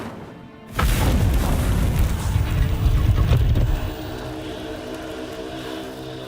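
Incendio fire spell cast in Hogwarts Legacy, a sudden loud whooshing blast that roars for about three seconds, then settles into a softer sustained rumble.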